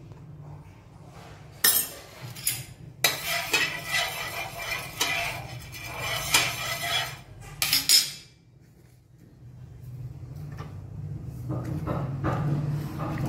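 A dosa griddle set down in a home kitchen while steel utensils clink, with several sharp metallic knocks and clatters in a burst, then quieter low kitchen hum.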